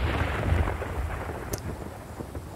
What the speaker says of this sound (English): Scary thunder.